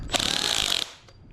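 A loud, harsh hammer drill skips as it grinds for most of a second with a rapid juddering rattle, then cuts off, leaving a faint tail.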